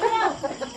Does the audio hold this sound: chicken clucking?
yes